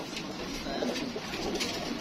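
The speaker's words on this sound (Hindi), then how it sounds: "ये लाल आंखों वाला कबूतर है" A red-eyed pigeon coos softly over steady background noise, a low continuous murmur with no voices.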